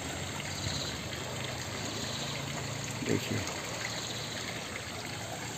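The Diphu river, swollen after a morning of rain, rushes along in a steady broadband wash of flowing water. Someone briefly speaks over it.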